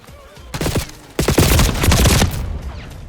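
Gunfire from the video game Black Ops 6 shot through a wall: loud, close bursts of rapid shots, a short volley followed by a longer sustained fusillade.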